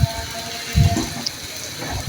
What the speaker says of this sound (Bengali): এখন একটু পানি দিয়ে দিলাম, দিয়ে লাড়াচাড়া করব